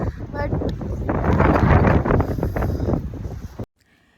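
Strong outdoor wind roars and buffets the microphone in a loud, continuous rush for several seconds before cutting off abruptly.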